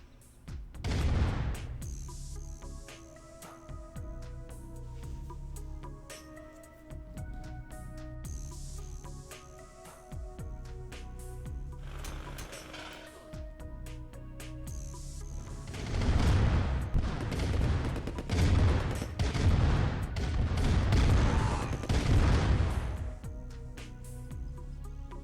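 A tank battle in Command and Conquer Red Alert Remastered brings repeated booming cannon shots and rattling gunfire, growing dense and loud toward the end of the stretch.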